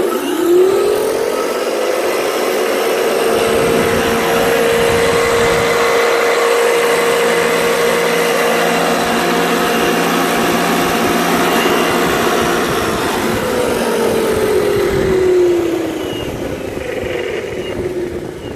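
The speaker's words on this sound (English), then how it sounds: "Now the ferrite motor goes up to 68 volts." An electric ferrite motor switches on and spins up to a steady, loud whine. It holds that pitch for over ten seconds, then winds down near the end.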